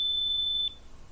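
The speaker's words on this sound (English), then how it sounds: "That's my phone, you guys." A phone alert gives a steady high electronic beep that holds for over half a second and then cuts off, leaving quiet room tone; there is no talk.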